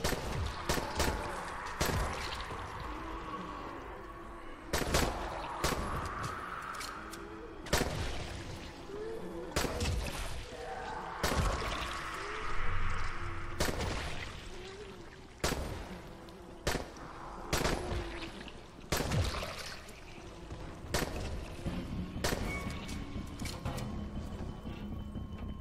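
Gunshots in the zombie video game Dying Light ring out at night in irregular single sharp cracks spaced a few seconds apart, fairly loud over a quieter background with faint mechanical clatter.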